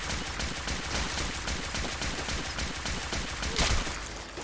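Dense, rapid gunfire from a Fallout 4 firefight rattles on without pause for several seconds, with bursts of shots overlapping into a steady loud barrage and one sharper peak near the end.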